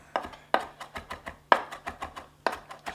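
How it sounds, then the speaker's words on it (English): A knife chopping herb leaves on a cutting board for stuffed mushrooms in a home kitchen: close, crisp rhythmic chops, about a dozen in quick succession, with a few heavier strokes and no talking. "Then we'll start giving it the good chop."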